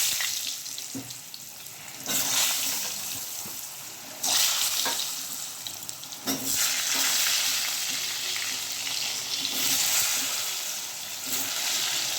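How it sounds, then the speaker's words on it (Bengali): Potatoes fry in hot mixed white and mustard oil, a steady loud sizzle that swells in waves as the pieces are stirred, with no talking. "এই দেখো দেখো আলুটা ভাজা হচ্ছে"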